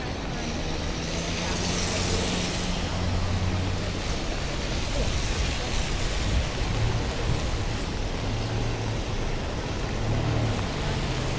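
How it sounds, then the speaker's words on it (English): Rain falls on a New York City street at night, a steady broad hiss with low traffic rumble passing through, while people talk faintly underneath. "Tonight is just going to be rain walk, relaxing, enjoying the rain"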